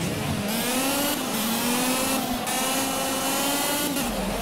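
Box-style race cars roar steadily in the Project Cars racing game. A loud, continuous engine drone climbs in pitch and drops briefly at several gear shifts, with no talking.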